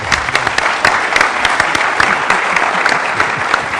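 An audience at a VMworld conference session applauds, dense clapping that holds steady and loud throughout the short stretch.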